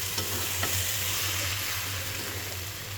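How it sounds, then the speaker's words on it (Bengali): Uncooked rice being stir-fried in a pan for biryani, giving a steady close sizzle with scraping stirring strokes throughout and no talking. "চালটা ভালো করে কষিয়ে নিচ্ছি।"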